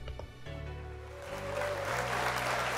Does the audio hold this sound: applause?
yes